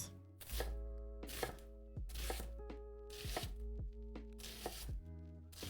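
Onions being chopped with a knife on a cutting board: steady close thunks in an irregular rhythm, loud and clear with no talking over them.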